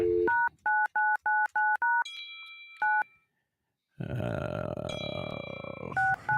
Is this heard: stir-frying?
no